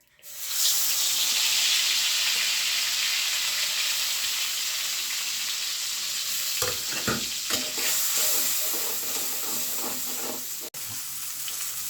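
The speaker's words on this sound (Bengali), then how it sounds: "এখন এগুলো ভাজি দেব।" Prawns coated with turmeric, chilli and salt fry in hot mustard oil with a steady, loud, close sizzle and hiss, interrupted near the end by a few clattering stirs in the pan.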